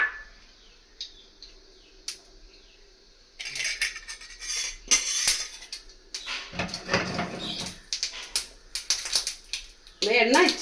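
Mustard seeds hit a little hot oil in a pan and start to crackle, a dense run of sharp pops and spits that begins after a quieter moment and keeps going in loud uneven bursts.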